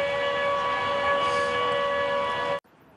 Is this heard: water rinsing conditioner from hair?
no